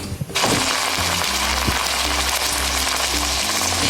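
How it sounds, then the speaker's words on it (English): Loud, steady sizzling of sausage frying in a hot pan, a constant crackling hiss close by, with a low hum and light clinks underneath. "So that's our sausage sizzling."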